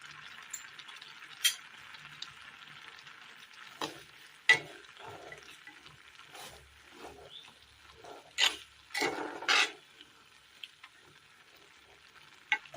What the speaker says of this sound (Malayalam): ഇതിലേക്ക് തക്കാളി ഇട്ട് കൊടുക്കാം.